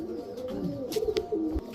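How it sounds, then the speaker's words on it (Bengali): A Kaldam Saharanpuri pigeon from a breeding pair coos close by in low, rolling, throaty phrases, with a few soft rustles and taps in the background. "এটা হচ্ছে কালদম সাহারানপুরি কবুতর"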